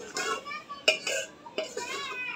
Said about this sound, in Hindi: चम्मच लगातार हिलाते रहना इसमें।